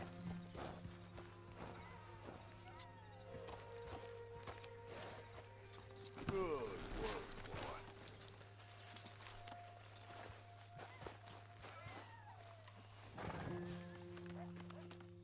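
Horse hooves clip-clop at a walk in the video game Red Dead Redemption 2, with a whinny partway through and a low steady hum from the game's ambience running throughout.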